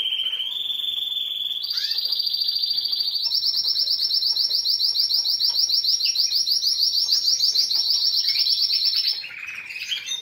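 A single bird sings close by, a sustained high, bright trill of rapid repeated notes that shifts pitch a few times and runs unbroken, with no voices.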